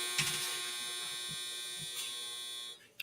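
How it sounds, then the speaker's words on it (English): A clothes dryer sounds its end-of-cycle signal, a steady, fairly loud electronic buzz lasting nearly three seconds before cutting off, with faint background noise underneath. "That is a dryer."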